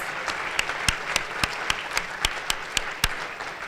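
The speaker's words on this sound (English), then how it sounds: "Let's give him a round of applause." A room full of brunch guests at a 2014 community event applauds Dale Evans with steady, dense clapping, with a few sharper nearby claps standing out through the sustained ovation.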